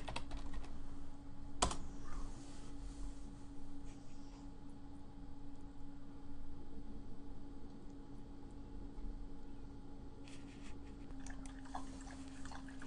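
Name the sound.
typing on a computer keyboard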